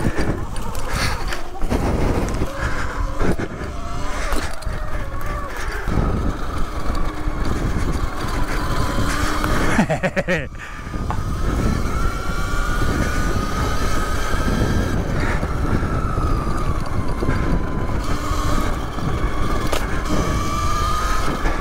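A Sur Ron electric dirt bike being ridden flat out, its motor whining steadily close by and rising in pitch as it speeds up, over constant wind and road rush with a short dip near the middle.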